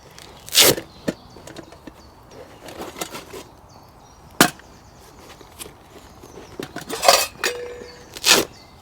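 A metal billy can pot clinks and knocks sharply as it is set onto a campfire in the woods, giving several scattered, close, bright impacts over low background rustle.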